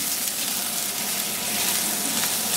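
Burger patties sizzle loudly and steadily in a frying pan, a dense unbroken crackling hiss heard close up without any speech.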